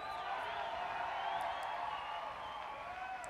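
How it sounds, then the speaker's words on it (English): Crowd cheering and clapping for a bar athlete at the Air Wipp Challenge 2018 finals, a steady, fairly distant swell of voices and whoops. "The crowd geeing him on, giving him that extra support."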